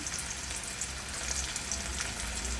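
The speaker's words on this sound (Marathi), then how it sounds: "कांदा भाजायला टाकलेला आपण कांदा भाजत असेल त्यामध्ये आपण लसूण आणि अद्रक केसून टाकले" Onion sizzles steadily in a hot pan with garlic and ginger, a continuous bright crackle of frying at even loudness with no talk.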